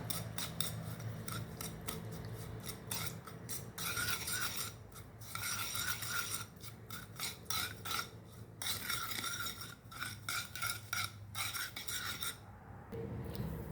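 Soap being stirred in a container of water to dissolve it with sugar, a continuous scraping and rubbing rhythm of the utensil against the vessel, fairly close and steady, with brief pauses.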